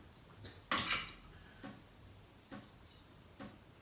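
A knife cutting a blueberry cashew cheesecake, giving one sharp clatter followed by three fainter, evenly spaced taps against a plate or pan in a quiet room.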